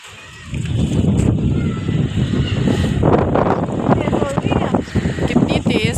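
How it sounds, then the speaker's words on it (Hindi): Strong gusting wind roars and buffets the microphone continuously, loud and close, with a voice faintly heard under the rush. "कितनी तेज हवा है ना।"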